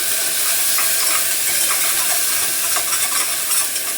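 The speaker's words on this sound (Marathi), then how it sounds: "चांगलं परतून घेते." Onion, tomato and coriander sauté on a tawa for chana masala, giving a loud, even sizzle with faint scraping of a spoon and no talking.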